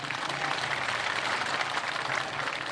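A large crowd at an outdoor strike rally in Muzaffarabad applauds for a traders' association, a dense, continuous wash of clapping at an even level with no voices standing out.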